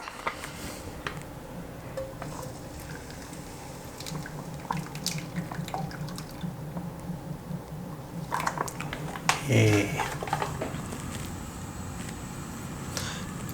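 Coconut milk pours into a pot for a Thai salted beef coconut soup, a steady liquid trickle and drip running throughout with a brief louder splash near the end.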